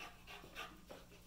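A dog pants quickly and softly up close, with several short rhythmic breaths and no talking.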